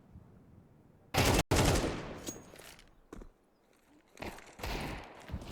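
Bursts of pistol fire in a Counter-Strike match, loud, sharp shots at about 1.2 and 1.5 seconds, then scattered quieter shots and a fresh cluster near the end.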